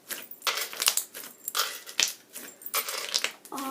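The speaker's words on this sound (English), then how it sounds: "Now I make the bubble pops." Slime bubbles being pressed and popped by hand, a quick series of close, sharp crackling pops in uneven bursts with short pauses between them.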